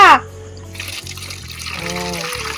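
Water pours and trickles in an unsteady stream, with a sharp splash at the start. Low hums and a few background sounds run underneath it.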